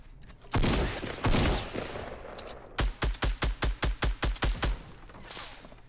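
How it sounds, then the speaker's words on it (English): Gunfire in the Fortnite video game: two heavy early blasts, then a rapid run of about ten evenly spaced loud shots, close and dominant, with no talk. "I have so many people firing at me at this point"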